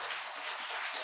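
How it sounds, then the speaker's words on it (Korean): A church congregation applauds in welcome for a returning elder, a dense, steady wash of many hands clapping together at moderate distance, heard alone without voices. "우리 환영의 박수를 좀 쳐줄까요?"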